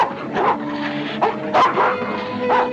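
A dog in a 1940 fantasy film gives a short run of barks and high yips mixed with whimpering, loud and close, with a faint background tone and no speech.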